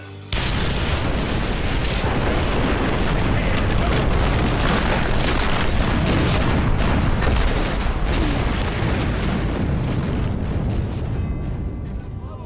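A huge explosion blows up a bunker in the World War I video game Valiant Hearts, a sudden loud boom that erupts into a sustained, rumbling blast lasting many seconds before slowly fading.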